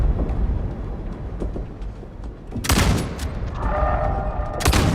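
Weapon fire in the space game Star Citizen: a sharp broadband blast cuts through a steady rumbling background, followed by a sustained ringing tone and a second burst near the end, loud and close.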